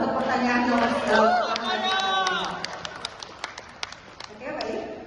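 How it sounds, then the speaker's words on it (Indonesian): A debate audience gives scattered, light clapping that trails off into separate claps after a moderator's speech. The applause is moderate and close, with murmur in the room. "Berikan tepuk tangan dulu dong untuk pertanyaan yang masih jauh"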